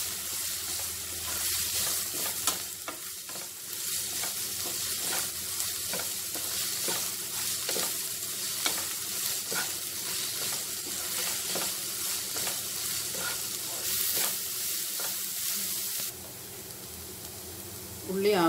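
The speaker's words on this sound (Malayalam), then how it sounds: "എന്നിട്ട് ഉള്ളി നന്നായി വഴറ്റിയെടുക്കുക" Onions with salt are sautéed in a pan, sizzling and hissing up close while a spoon scrapes and stirs in repeated strokes; a voice talks intermittently over the frying.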